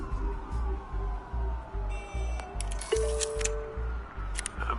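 Police car sirens wail in the Batman Telltale video game, several rising and falling tones overlapping at moderate distance over a low pulsing rumble, with short bright electronic bursts cutting in.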